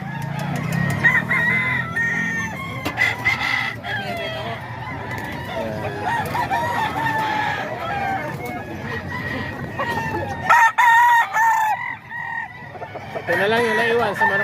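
Thompson White gamefowl roosters, ten months old, crowing loudly and close, with repeated harmonic crows and clucks over a busy yard while someone talks throughout.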